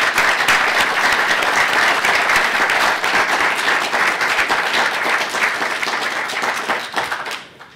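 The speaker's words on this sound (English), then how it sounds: "So could we give a round of applause for Hazel?" A crowd at a Christmas meeting applauds loudly and steadily for several seconds, then the clapping fades out at the end.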